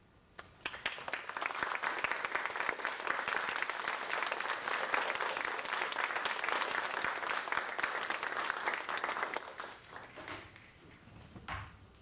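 Audience applause fills a room after a poetry reading by Sherwin Bitsui at the Emory & Henry Larmore Visiting Poet Series, steady dense clapping for about nine seconds before tapering to scattered claps.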